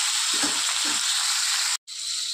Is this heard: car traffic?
no